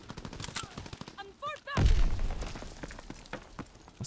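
Call of Duty WWII gunfire bursts out in sharp repeated shots, with a heavy loud blast midway and further scattered cracks, while a voice calls out over the action.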